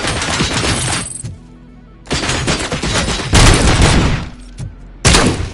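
Loud bursts of gunfire in a RoboCop street shootout, firing in several intense volleys separated by short lulls, with heavy, full-bodied blasts.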